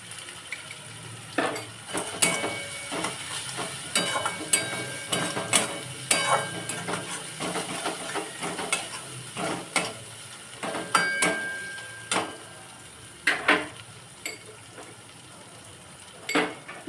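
Spices are sautéed with Kashmiri chilli powder in a pan: a soft sizzle runs throughout beneath irregular scrapes and knocks of a spoon against the pan, heard close up with no talking.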